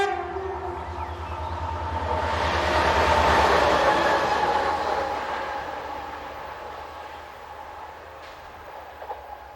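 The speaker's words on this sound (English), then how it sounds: "close to Arzweiler, we see Eurocargo Rail G2000 loco number 602 heading east" A Eurocargo Rail G2000 diesel locomotive, number 602, passes eastbound near Arzweiler with a deep rumble. It swells to a loud peak mid-clip with clattering wheels, then fades as it moves away.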